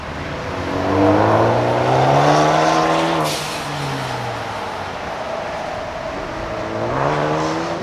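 A street-class race car at the Carlisle Ford Nationals track event launches and accelerates hard, its engine note climbing through the gears, briefly easing, then rising again, loud and close.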